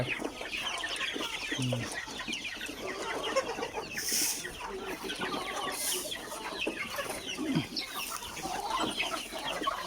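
Chickens cluck steadily on a backyard village chicken farm, a dense flock chattering close by with overlapping calls and short squawks throughout, no talking.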